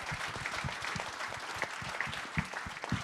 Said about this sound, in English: So can we all give our 2023 Changemakers a round of applause?